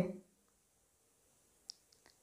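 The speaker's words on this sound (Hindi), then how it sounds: "यहाँ पे आपको क्लिक करना है जैसे आप क्लिक करेंगे" A computer mouse clicked while filling out an online counselling form, a few faint, sharp clicks near the end after a short burst of sound at the start.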